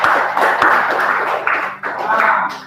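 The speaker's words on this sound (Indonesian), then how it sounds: "Tepuk tangan untuk kelompok" A class of junior high school students applauds a student group, a dense burst of clapping that keeps up for a few seconds with small dips, close and fairly loud in a classroom.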